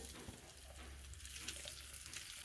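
Grated fresh coconut roasting in ghee in a pan over a low flame, making a faint, steady, even sizzle throughout.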